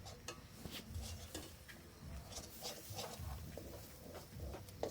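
Shol fish is stirred with oil in a cooking pan, giving soft rhythmic scraping and clinking strokes with a faint sizzle underneath, quiet and close.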